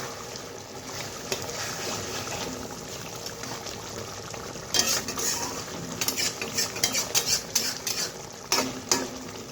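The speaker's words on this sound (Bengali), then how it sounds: "মাছগুলো ছেড়ে দিলাম, তো একটু ভালোভাবে নেড়ে নিই।" Koi fish being stirred in a frying pan for a Bengali kodhai paturi, with soft sizzling throughout and, in the second half, a quick run of scraping and clattering spatula strokes against the pan, close and with no talk.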